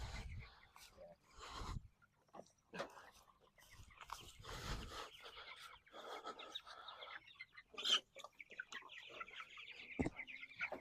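Chickens in a chicken tractor on fresh pasture cluck softly and irregularly close by, mixed with rustling and quiet human talk throughout.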